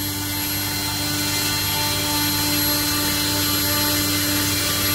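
A 3D printed Hamilton Standard 11x6 propeller spins on a thrust test rig at three-quarters throttle, giving a loud, steady droning whine with constant tonal hum and no breaks.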